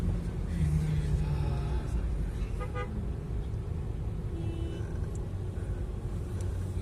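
A low, steady rumble of car engines and road traffic fills the background, with a brief horn toot partway through.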